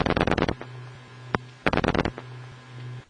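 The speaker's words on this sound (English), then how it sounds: "Typically, the rotary dialing sounds like this." Rotary dial telephone dialing as it comes through on a phone tape: two rapid bursts of pulse clicks, each about half a second long, separated by a pause over a steady mains hum, with a single isolated click between them.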